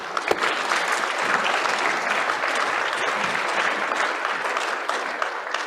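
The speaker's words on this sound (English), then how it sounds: "Could you give them a hand of applause?" A state Senate chamber applauds visiting students: dense, even clapping from a floor gallery, fairly loud and sustained throughout with no speech over it.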